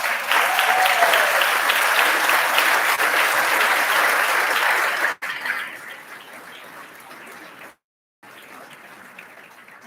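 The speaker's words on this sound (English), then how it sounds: "please give a nice round of applause for all of our leaders and all of you" A convention audience claps in a dense, loud burst of applause that thins out abruptly partway through, leaving lighter scattered clapping and a brief silent gap.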